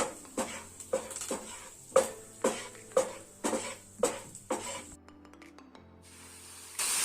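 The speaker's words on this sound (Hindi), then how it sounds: "अब हम अपने इस मसालों को अच्छे से भून लेंगे।" Spices frying in a pan for a shahi paneer gravy, a series of sizzling, hissing bursts, each swelling and fading, roughly one per half second, then a quieter stretch with a soft clink before the sizzle returns.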